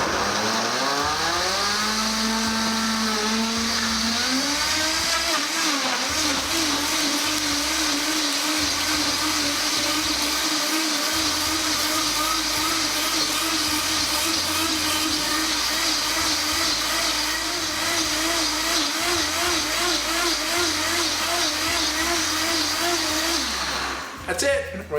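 A Vitamix blender spins up to high speed blending hot soup, its motor climbing in pitch over the first seconds and then holding a loud, steady whirring roar until it cuts off at the end.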